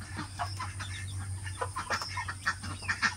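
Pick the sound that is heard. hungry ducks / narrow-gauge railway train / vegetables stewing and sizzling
hungry ducks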